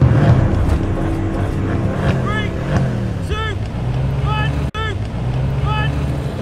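Drag race of an Audi RS5, BMW M4 and Mercedes-AMG C63 S, with a steady loud engine and wind roar throughout and repeated whistling tones riding over it.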